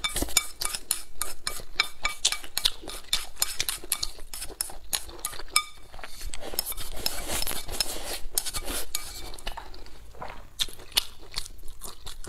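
Pork belly being stir-fried in a pan, with a dense run of sharp metallic spatula scrapes and clinks against the cookware and a sizzling wash underneath, continuous and close.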